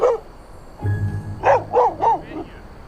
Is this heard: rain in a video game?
no